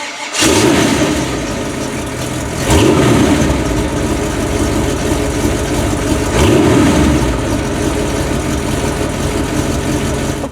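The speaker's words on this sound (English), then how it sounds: "This particular model comes with a 400 cubic inch small block, putting out 300 horsepower." A 1953 Corvette restomod replica's 400 cubic inch small block V8 runs steadily and loudly up close, with two brief revs swelling the rumble and no talking.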